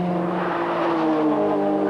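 Group N racing cars at Mallory Park in 1991 accelerate with a sustained, strained engine drone whose pitch climbs slightly, loud and continuous, with faint commentary underneath.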